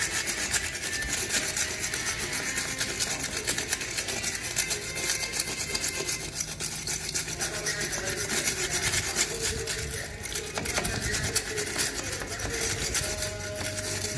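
Someone rubs cement dust off a wooden door by hand, making a close, continuous scratchy scrubbing that keeps a steady back-and-forth texture throughout.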